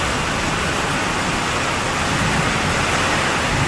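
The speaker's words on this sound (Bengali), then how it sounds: "এখন প্রচণ্ড বর্ষা হচ্ছে" Heavy monsoon rain pours down steadily during a sudden morning downpour in 38-degree heat, a dense, continuous roar of water with no breaks, close and loud throughout.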